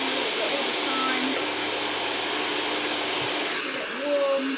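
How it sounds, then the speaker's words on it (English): A hairdryer blow-drying hair gives a constant, loud whooshing hum that holds steady throughout, with a slight swell near the end as it moves. "The hairdryer, moving a little bit all the time,"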